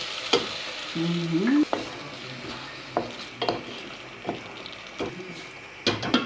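Fried rice sizzles steadily in a hot pan as sauce is added and a utensil stirs and scrapes, with sharp clacks against the pan every second or so.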